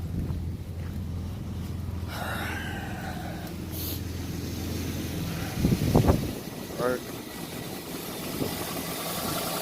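A 2015 Nissan Rogue driving after its spark plugs were replaced, a steady low engine hum running throughout with some rattles and knocks around the middle, and a voice talking over it.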